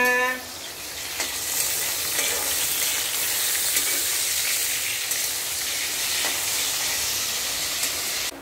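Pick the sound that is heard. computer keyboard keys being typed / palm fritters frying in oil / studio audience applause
palm fritters frying in oil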